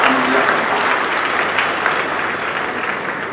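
An audience claps steadily and loudly for the Young Africans club president, a dense, continuous burst of applause with no voices standing out.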